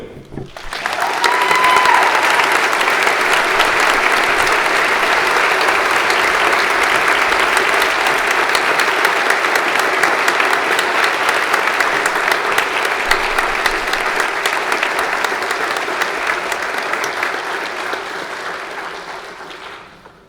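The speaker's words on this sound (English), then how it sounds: "Give her another round of applause." A high school senior awards audience applauds an award winner, a long, dense, even round of clapping that holds steady for about twenty seconds and then fades.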